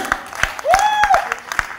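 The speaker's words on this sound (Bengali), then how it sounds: "জোরে হাত তালি হয়ে যাক" A crowd claps loudly for children at the Ramprai Fashion Show 2025, with sharp, distinct claps under a brief rising and falling voice or whistle.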